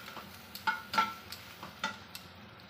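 Soft, sparse scraping and clinks of a spoon stirring dhokla ingredients with a little sugar in a pan, a few light knocks over a faint background hiss, close but quiet, no voices.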